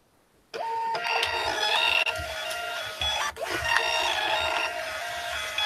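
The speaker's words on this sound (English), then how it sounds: "Dot matrix printer." A dot matrix printer prints in a continuous buzzing, whirring run that starts after a moment of silence, with a couple of brief hitches along the way.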